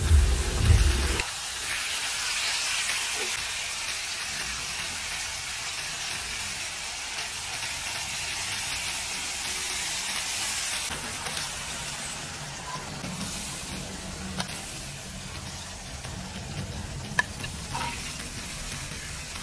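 Liempo pork belly barbecue sizzles steadily in a pan, a continuous soft frying hiss at close range with faint clinks, starting with a brief louder burst before settling into an even sizzle.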